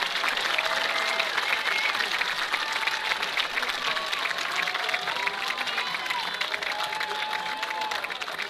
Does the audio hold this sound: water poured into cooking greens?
no